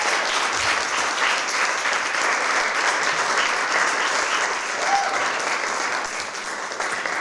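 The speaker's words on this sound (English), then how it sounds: "let's give all these presenters a big round of applause" A symposium audience gives the presenters a sustained round of applause, dense and even for several seconds before tapering slightly at the end.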